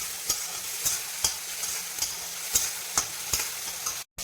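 Small-cut potato pieces frying in oil for a dry fish curry, with a constant bright sizzle and evenly spaced spatula scrapes roughly every half second, ending with a brief dropout.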